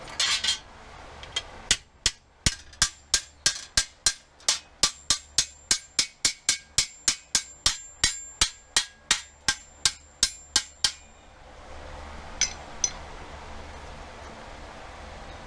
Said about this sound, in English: we're going to go over to the anvil and we're going to flatten out over a hammer